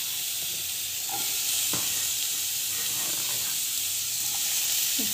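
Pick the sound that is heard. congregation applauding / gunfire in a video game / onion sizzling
onion sizzling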